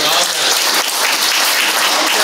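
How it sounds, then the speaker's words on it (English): Dense, steady applause from an audience at a livestreamed beer-tasting event, loud and continuous with no break across its whole length. "that was a round of applause"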